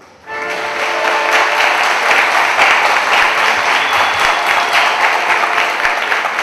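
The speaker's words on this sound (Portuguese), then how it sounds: "gostaria que todos batessem palmas para nós mesmos" Graduates and guests applaud at a graduation ceremony, dense loud clapping that starts abruptly and stays level throughout, with no voices over it.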